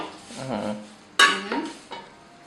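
A frying pan set down on a home stove, a loud metallic clank followed by a short rattle and a fainter knock, with lighter kitchen clatter before it.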